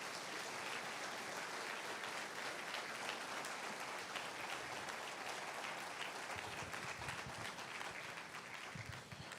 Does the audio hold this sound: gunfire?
no